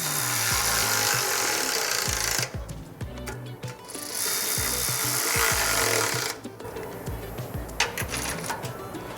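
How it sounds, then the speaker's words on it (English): Ratchet tightening 14mm bolts while fitting a rock slider to a third-generation Toyota Tacoma, a loud, busy run of rapid clicking bursts with brief pauses between stretches of turning, no talk. "So we're gonna start from the front and just work our way back with these 14mm bolts."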